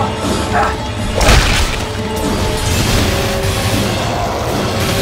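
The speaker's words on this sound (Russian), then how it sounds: "Еще и гранату кинули, смотрите сзади" A thrown grenade explodes in Dead Space 3, a loud, close booming blast with a crash, followed by rumbling gunfire-like debris and echoing noise under excited talk.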